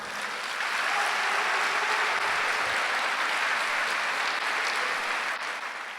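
A church congregation applauds during a Sunday worship service, a steady, dense wash of many hands clapping together that swells in and holds evenly at moderate loudness without talk.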